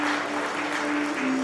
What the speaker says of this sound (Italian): allora un applauso